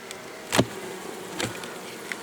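Honey bees around a beehive in August, a couple of loud buzzing passes close by at about half a second and again near 1.4 seconds, over a steady low hum of insect activity, with no talking.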